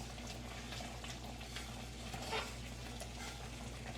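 A pot of thick peanut brittle candy bubbles and simmers steadily, with a soft continuous seething and faint stirring noises close by.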